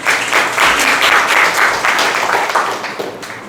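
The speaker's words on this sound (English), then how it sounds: "let's welcome them with thunder of applause" An audience at a Labour's Day programme in an institution's English speaking class gives guests a loud, dense round of applause, steady and close throughout with no break.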